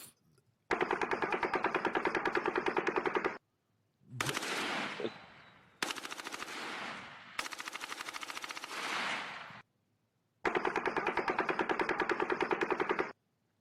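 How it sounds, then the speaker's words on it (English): A belt-fed machine gun fires in long, rapid sustained bursts separated by short silences, loud and close, as a played recording with no talking. "That is a machine gun that's belt fed at that point."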